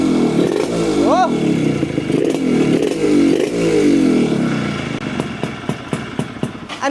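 A two-stroke engine fitted with a remote runs and revs, a buzzy rising and falling drone up close, then settles into a rough idle with clattering ticks while people talk over it.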